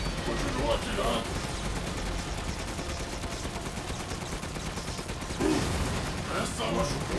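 Sustained gunfire during a boss fight in Resident Evil Village, a dense rattle of shots over game noise and music at steady loudness, with voices talking through it.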